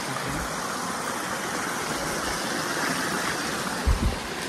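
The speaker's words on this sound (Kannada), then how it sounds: "ಸೌಂಡ್ ನೋಡಿ ಹೆಂಗೆ ಬರಕತ್ತದ ಇಲ್ಲಿ ನೀರು ಹೊಂಟವ" Stream water flowing near Butterfly Beach in Goa, a steady broadband rush that fills the whole stretch at moderate level, with a brief low thump near the end and no talk.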